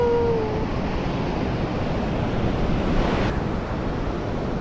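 Ocean surf rolls steadily onto a beach at dawn, a continuous broad wash of breaking waves with wind rushing across the microphone, no voices.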